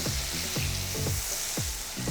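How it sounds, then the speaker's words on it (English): Loud, steady sizzling of butter in a hot Lodge cast iron skillet, a constant crackling hiss close up, with occasional scrapes from stirring. "listen to the sizzle in that pan"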